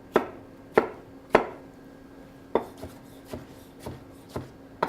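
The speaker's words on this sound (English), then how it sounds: "So what I'm going to do is just coarsely chop these." A knife coarsely chopping tomatoes, giving sharp, evenly spaced knocks, about nine in all, close up and distinct against a quiet background with no speech.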